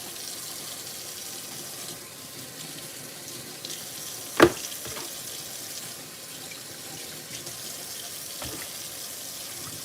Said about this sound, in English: rinse some of that vinegar off.